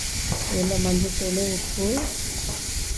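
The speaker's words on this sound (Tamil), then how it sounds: "தக்காளி போட்டு நல்லா வதக்கணும்." Tomatoes sauté in hot oil for brinjal kara kuzhambu, a loud, continuous sizzle with stirring, while someone speaks briefly over it.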